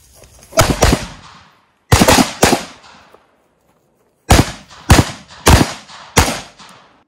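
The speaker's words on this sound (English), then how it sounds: "I'd rather you assess the target a little bit and take good precision shots" Close, loud gunshots ring out during two-man room clearing training, coming in quick doubles and triples: a pair, then another pair after a pause, then a longer string of four sharp reports with brief echoing tails.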